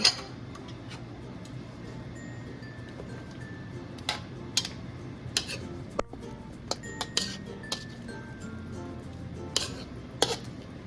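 Stirring chicken and milk in a cooking pot for pineapple chicken gives sparse, sharp metallic clinks and taps of a utensil against the pot, irregular and close over a low background hum.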